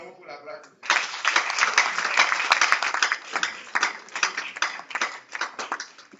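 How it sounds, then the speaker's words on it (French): A church congregation at a French-language service applauds, a steady wash of many hands clapping that begins abruptly and keeps going with uneven swells, with voices mixed into the crowd noise. "Acclamons pour la grâce."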